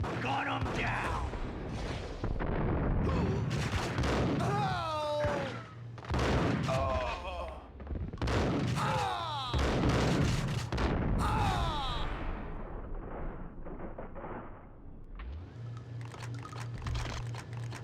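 Gunshots ring out in the action game Max Payne as repeated sharp blasts mixed in among in-game voices shouting and talking throughout.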